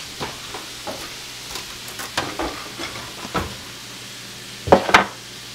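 Buttered buns toasting in a pan for Philly cheesesteaks, with a soft steady sizzle under scattered scraping and stirring taps and a louder clatter near the end.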